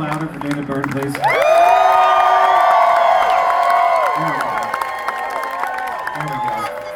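Concert crowd at a show at Des Moines Social Club roaring with cheers, whoops and sustained applause that swells suddenly and stays loud, with whistles and shouts over a dense clapping wash, then slowly tapering.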